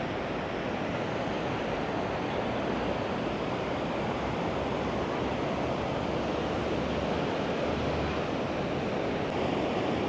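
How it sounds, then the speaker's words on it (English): Strong ocean surf at a beach in Da Nang, Vietnam, a continuous loud broadband roar of breaking waves with wind buffeting, no talking. "But the waves are very strong."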